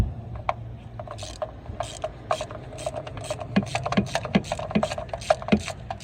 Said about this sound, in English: I'm going to take this spark plug out